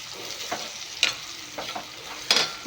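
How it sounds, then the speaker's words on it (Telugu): Turmeric and salt being stirred into capsicum in a pan, a few soft scraping strokes of the spoon with a faint sizzle underneath, no talking. "పసుపు వేసుకొని ఇలా మిక్స్ చేసుకోవాలి"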